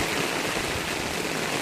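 Very heavy rain pours down at Doddaveeranahalli, a dense and continuous roar of falling water close by, with no voices.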